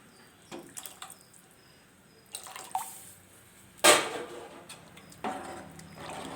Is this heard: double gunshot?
no